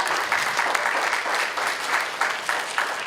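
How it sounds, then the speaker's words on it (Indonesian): Students at a university industrial engineering gathering giving dense, continuous applause, loud and close, with no speech on top. "tepuk tangan semua untuk Cici"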